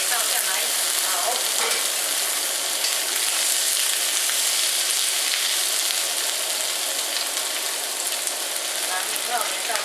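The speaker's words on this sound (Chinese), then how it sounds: "把这菜码给倒下来炒" Vegetables stir-fried in a hot wok for beef with cashew nuts, a steady loud sizzle with constant crackle and scraping of the stirring utensil, continuous throughout with no break.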